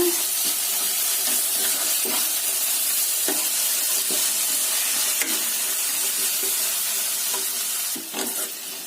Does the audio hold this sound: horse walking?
no